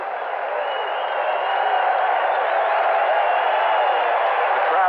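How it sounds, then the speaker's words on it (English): Steady crowd roar at Shea Stadium during the 1987 Expos–Mets game, a full-count moment as fans press for a strikeout; loud, continuous, rising slightly, with broad mixed cheering and no clear claps standing out. "The crowd looking for a strikeout."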